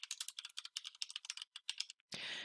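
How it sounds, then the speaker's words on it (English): Rapid, crisp typing on a computer keyboard: a brisk run of quick key clicks in uneven bursts, close and alone, ending with a short rushing noise. "So I'm typing mine in."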